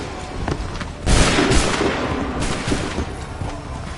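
Gunfire erupts in Star Wars Outlaws, a loud dense volley of blaster shots and booms that surges after a quieter opening and continues with repeated cracks and thumps.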